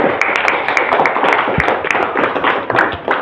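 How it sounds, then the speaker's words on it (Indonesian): Students in a classroom clap for a classmate, a dense, steady patter of many hands lasting throughout, fairly close and loud, with faint voices mixed in. "Kita tepuk tangan dulu buat Clarissa."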